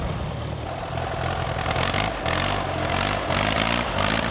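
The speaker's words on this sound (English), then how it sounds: "There's an antique tractor pull on Saturdays as collectors pit their machines against the weight sled." Restored antique tractor engine running at a farm show tractor pull, a loud, steady chugging idle with rhythmic low pulses and no talk.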